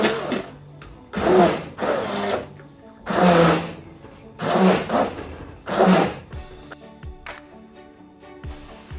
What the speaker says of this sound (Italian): con l'aiuto di un frullatore ad immersione andiamo a frullare il tutto